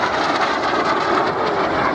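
Folland Gnat jets roaring past at an air display, a steady broad jet rush sustained throughout at fairly close range with no talk.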